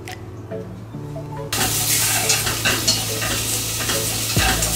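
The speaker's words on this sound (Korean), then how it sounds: "이 냄비를 설거지 하지 말고 그냥 여기에다가 바로 고기를 볶아줄 겁니다" Meat is stir-fried in a pot that was just used for cooking and left unwashed. After a brief quiet lead-in with a low hum, the meat hits the hot pot and a loud steady sizzle takes over, with stirring scrapes.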